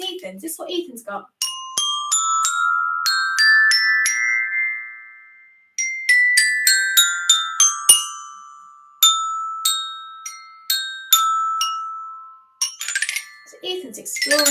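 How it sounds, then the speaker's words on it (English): A child strikes a glockenspiel, bright metal bars ringing in quick runs of separate notes with short pauses between phrases, each tone decaying cleanly, up close and alone. "Ethan's got a glockenspiel."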